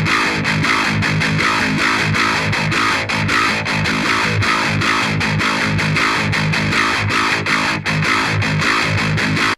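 An electric guitar with heavy distortion plays a riff, a loud, dense, continuous wall of chugging palm-muted chords with rhythmic accents, with no voice over it.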